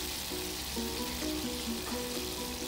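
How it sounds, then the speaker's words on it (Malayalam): A generous handful of curry leaves frying in hot coconut oil, making a steady, even sizzle with soft tonal sounds faintly in the background. "വെളിച്ചെണ്ണ ഒന്ന് ചൂടായി കഴിയുമ്പോഴേക്ക് നമുക്കിതിൽ കുറച്ച് കൂടുതൽ കറിവേപ്പില ഇട്ട് കൊടുക്കണം"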